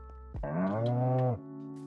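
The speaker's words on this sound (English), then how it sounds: "Who's mooing at me?" A Minecraft cow (Bedrock edition 1.21) lets out one drawn-out moo, close and clear, rising then holding for about a second before cutting off, with quiet game ambience around it.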